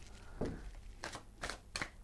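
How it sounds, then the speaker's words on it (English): Tarot cards being shuffled by hand, four short riffling bursts separated by brief pauses, close and fairly quiet, with no talking. "I'm going to have to do a proper little shuffle, actually."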